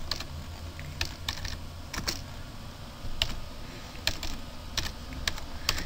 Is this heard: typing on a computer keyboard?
yes